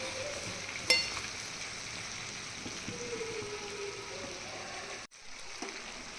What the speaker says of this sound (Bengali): এবার এর মধ্যে পুঁই শাক আর পুঁয়ের ডাটিগুলোকে দিয়ে দেবো